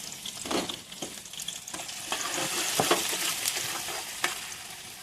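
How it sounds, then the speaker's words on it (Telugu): Onions and green chillies fry in oil in a pan, a continuous close sizzle broken by repeated scraping stirs and a few sharper clatters, with no talking. "ఈ ఉల్లిపాయ, పచ్చిమిరపకాయలు గోల్డెన్ బ్రౌనిష్ కలర్ వచ్చే వరకు వేయించుకోవాలి"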